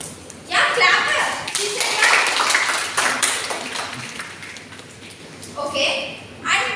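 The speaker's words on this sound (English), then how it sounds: "Yeah, clap." Students clapping in a classroom after a lesson on logic gates, with a burst of scattered, fairly close applause that fades out, then a brief second round of claps near the end, with voices around it.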